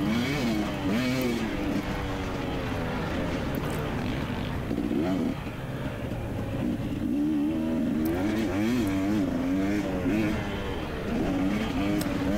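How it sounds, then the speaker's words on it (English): KTM 250xc two-stroke dirt bike riding practice laps at a motocross track, its engine buzzing loudly and continuously with repeated rising and falling revs as it accelerates and shifts, close to the microphone. "So the dirt bike ran good"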